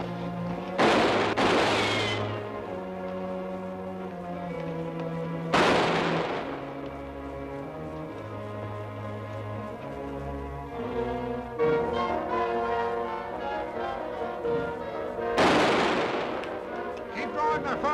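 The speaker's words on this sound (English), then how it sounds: "Keep drawing their fire while Cameron and his men gets around behind" Gunshots ring out in a 1950s western stagecoach shootout, with a few loud sharp bursts spread across the scene over a dramatic orchestral score.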